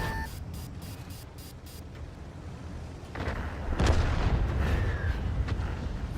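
Video game artillery fire rumbles in the distance as deep booms and a heavy, noisy roll that swells after a few short electronic beeps at the start.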